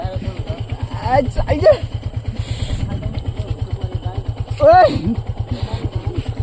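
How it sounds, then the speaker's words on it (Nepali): A motorcycle engine runs with a loud, rapid, steady thumping pulse close by during a ride to a new place, while people talk over it with short bursts of speech. "यहाँ बाइक थाल्नु पर्ने भयो फेरि अब"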